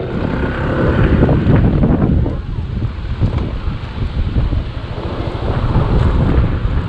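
Strong wind buffets the microphone in a continuous loud roar by a small bayside walkway in Balete, Batangas, as evening darkens and rain threatens.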